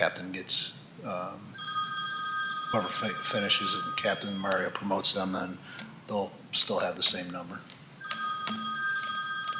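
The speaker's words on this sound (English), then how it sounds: "That's my phone ringing." A mobile phone rings in repeated electronic tone bursts during a civil service commission meeting, continuing beneath ongoing conversation in the room.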